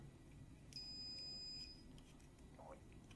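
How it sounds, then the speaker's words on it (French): A single short, shrill electronic beep from an unstable circuit in a Lemax North Pole Observatory ride rings out faintly over a low background hum, followed by soft clicks. "C'est parce que c'est instable que ça fait bip bip bip."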